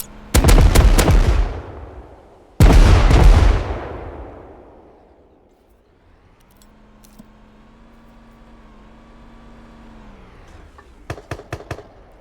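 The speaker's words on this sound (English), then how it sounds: "here comes the smoke grenades" Two heavy booming blasts in quick succession, each decaying into a long rumble, then a low engine-like hum and a few sharp cracks near the end, from a smoke grenade attack in the survival game Rust.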